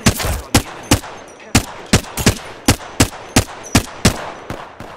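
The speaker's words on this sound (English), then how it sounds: "I'm taking fire." Rapid bursts of weapon fire in the battle royale shooter Apex Legends, about a dozen sharp, loud reports spaced roughly every third of a second to half second, close and dominant with nothing else competing.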